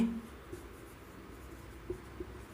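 A pen writes out a maths solution for a class 10 real numbers exercise, a faint, close scratching of strokes across paper, with no talking.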